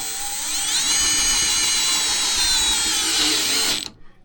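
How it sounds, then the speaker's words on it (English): A Milwaukee subcompact drill drives a self-drilling screw with a loud, steady, high whine that runs for nearly four seconds and then cuts off abruptly. "Here comes the drill with a self-drilling."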